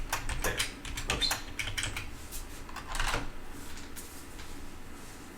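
Steady typing on a computer keyboard during a live coding stream, with rapid clustered keystrokes and occasional louder key hits in irregular bursts, close and clear with no voices.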